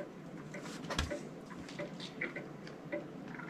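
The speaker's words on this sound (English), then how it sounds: "That ticking is going to put me to sleep." Steady clock ticking in a video game, a soft, regular tick-tock repeating quietly over a faint room hum, with a few birdlike coos.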